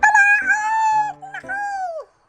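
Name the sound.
chicken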